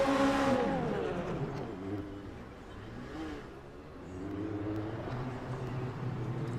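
Race cars on a formation lap at Spa in Le Mans Ultimate, a steady layered engine drone with rising and falling revs, continuous and fairly loud, with no talk over it.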